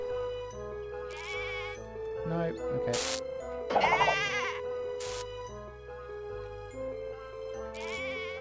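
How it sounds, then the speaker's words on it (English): Sheep bleats from the Animaniacs: The Great Edgar Hunt video game, set in Bo Peep's electrified-sheep level: several quavering bleats rise over looping game music, with a short spoken remark in between. "Now we're going to help Bo Peep shave her 5 sheep."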